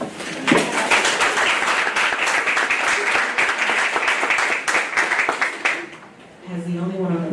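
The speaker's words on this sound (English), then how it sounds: "I would love to give you an amazingly big round of applause." An audience at a Mount Vernon Board of Education work session gives a big, sustained round of applause, thick and crackling for about six seconds, before it dies away and a voice begins speaking.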